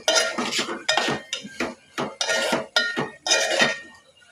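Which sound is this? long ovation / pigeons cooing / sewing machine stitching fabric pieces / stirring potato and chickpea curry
stirring potato and chickpea curry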